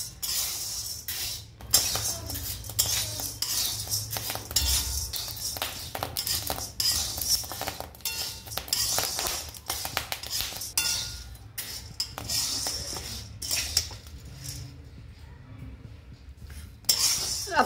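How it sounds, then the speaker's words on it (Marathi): Wheat grains stirred continuously while dry-roasting in a pan, a close, steady rattling and scraping of grains and utensil against metal, loud throughout with brief pauses. "गहू पण असे कंटिन्यू हलवायचे आहे आणि लालसर भाजून घ्यायचे आहे चांगले"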